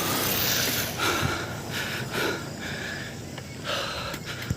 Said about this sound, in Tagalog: grabe pa rin hingal ko